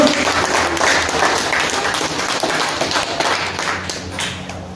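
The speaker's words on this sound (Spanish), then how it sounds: "Denle una ofrenda de palmas al Señor en esta hora" Congregation applauding during a church service, a steady dense wash of many hands clapping at even loudness throughout, with no pauses.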